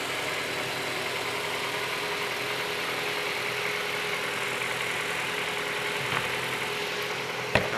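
A 2016 Ford Escape engine idles steadily right after a hard start. The even, moderately loud hum runs throughout with no talking, and a brief click comes near the end.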